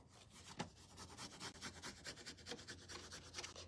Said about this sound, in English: So I'm going to rub from the bottom.